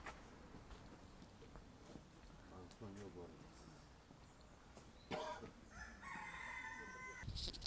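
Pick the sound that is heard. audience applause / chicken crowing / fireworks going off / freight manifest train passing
chicken crowing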